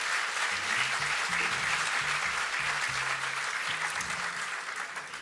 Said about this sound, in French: Donc je les remercie très fort et on peut les applaudir aussi.